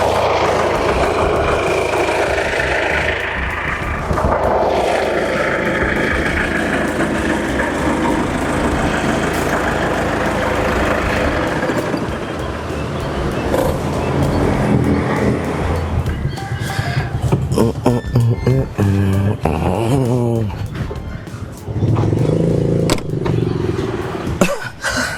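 A car engine runs steadily at close range for a long stretch, a continuous rumbling drone with some shifting texture toward the end.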